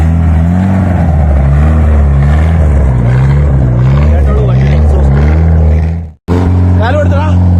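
The engine of a modified Gypsy runs loud and near with a deep, even drone, its pitch shifting as it is revved. It cuts out briefly near the end and then returns.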